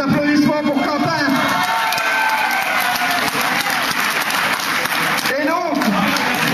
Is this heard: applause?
yes